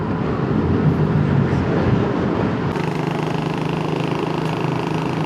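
A Yamaha Nmax V2 scooter engine runs steadily throughout a ride, with a continuous droning hum and broadband wind rush, and the tone shifts slightly partway through.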